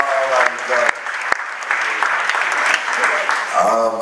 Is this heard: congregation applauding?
yes